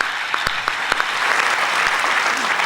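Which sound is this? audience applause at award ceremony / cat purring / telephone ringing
audience applause at award ceremony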